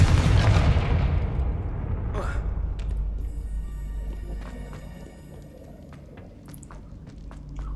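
A Confringo fire-blast spell cast in the video game Hogwarts Legacy, a loud booming burst at the start that decays into a rumbling tail, with a whoosh and faint clatters after.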